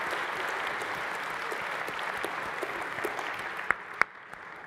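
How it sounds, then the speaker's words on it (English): A recovery event audience applauds steadily, a moderately loud, even wash of clapping with a few sharper individual claps standing out as it begins to thin near the end. "Let's give a little round of applause."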